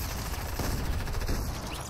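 Gunfire from the video game Fortnite rattles steadily through the whole stretch, a dense, continuous volley at a fairly even level with no clear pauses.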